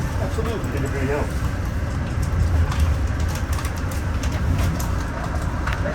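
An Amtrak Pennsylvanian passenger train, number 43 westbound, pulls into Philadelphia: a steady, loud rumble of rolling railcars fills the whole stretch, with people talking over it nearby.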